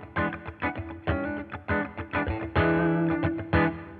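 An electric guitar played through a distortion effect chugs out rhythmic, punchy chords in a syncopated pattern, loud and close, with some sustained notes ringing between the stabs.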